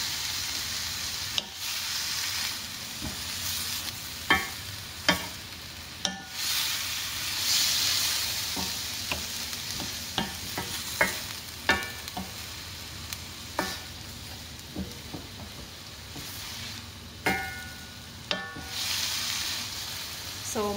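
Bitter melon (ampalaya) with Korean luncheon meat stir-frying in a pan: a steady sizzling hiss broken by a dozen or so sharp scraping and clanking strokes of the utensil against the pan, close and fairly loud, no talk.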